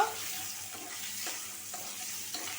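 Eggs frying with turmeric in a pan, a steady close sizzle with occasional stirring scrapes running throughout, no voices.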